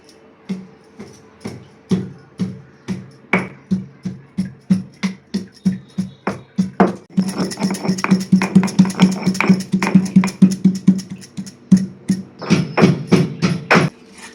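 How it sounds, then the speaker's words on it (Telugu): Garlic cloves pounded coarsely in a stone mortar for an amla pickle: steady, close thuds repeat in a regular rhythm, growing denser and faster midway, with no talking. "ఇలా రోట్లో వెల్లుల్లిని వేసుకొని కచ్చాపచ్చా దంచుకోవాలి"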